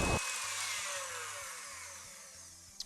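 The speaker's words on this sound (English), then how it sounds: "So put it on full, whisk away." Electric whisk on full speed beating a pudding mixture in a kitchen, a steady high whirring drone with faint rhythmic rattle, continuous and fairly quiet, ending with a small clunk.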